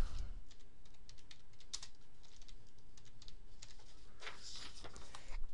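Rapid, steady keystrokes on a computer keyboard, close and fairly quiet, with a few louder key hits standing out from the even patter.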